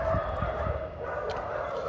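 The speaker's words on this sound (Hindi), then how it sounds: "कुत्ते भौंक रहे हैं" Dogs bark outdoors on a cold winter night, with a few muffled barks early on and then fainter ones further off, over a steady background hum.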